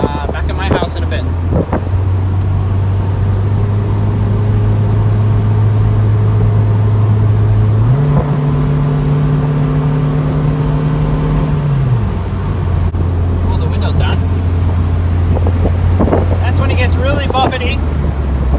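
A 1997 Honda Civic Del Sol Si cruises along a back road at about 55 mph, its engine droning steadily and rising briefly in pitch under heavy wind buffeting, while a person talks over it.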